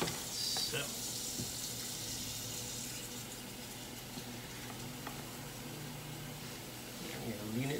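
Potatoes fry in a pan on the stove with a steady, close sizzle that runs throughout, joined by clinks of a utensil and a brief burst near the end.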